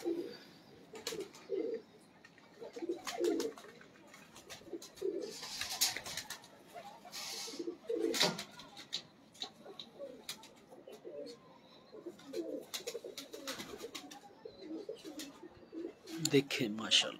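Several Lakha pigeons coo steadily, with overlapping, throaty calls recurring every second or two. The cooing is near and fairly soft, with occasional chirps and no voices.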